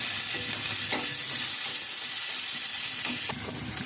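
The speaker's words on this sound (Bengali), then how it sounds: "পেঁয়াজটা একটু ভাজা ভাজা হয়ে গেলে" Onions frying in a pan as the base for a Bengali fish curry with banana stem, a close, loud, steady sizzle broken by a few scraping stirs, with no voices.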